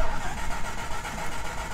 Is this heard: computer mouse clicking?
no